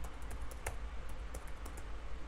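Fast typing on a computer keyboard during a lecture on computers and mobile devices, a run of quiet irregular key clicks over a low steady hum, with no talking.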